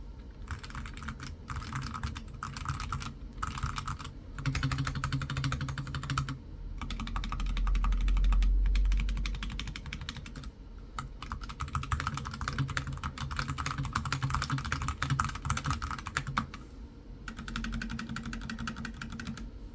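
Rapid, steady typing on a NuPhy Air75 HE low-profile magnetic-switch keyboard, a dense run of close, crisp clacks in bursts with brief pauses, no voices.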